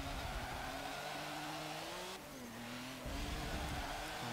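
A turbocharged K1 Speed racing car in Forza Motorsport 7 drones at steady high revs, with its engine pitch shifting through a brief lift and return to full throttle.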